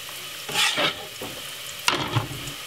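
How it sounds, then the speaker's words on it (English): Pumpkin pieces frying in hot oil make a close sizzle, with bursts of stirring scrapes and crackles rising and falling in two main waves. "First thing inside of the oil, frying off those lovely pumpkin."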